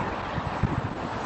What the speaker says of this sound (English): I hear wind everywhere